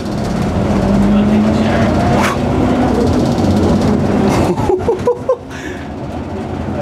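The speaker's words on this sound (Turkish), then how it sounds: "Elektrikli otobüsümüz kullanıma hazır." Karsan Atak electric bus, fitted with a BMW i3 motor, driving with a steady broadband rolling rumble and a faint whine throughout, a few clicks and knocks near the end.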